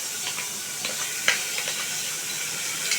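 Finely chopped onion sautéing lightly in a pan for chicken pasta makes a soft, continuous sizzle and hiss, broken by a few small scraping stir sounds.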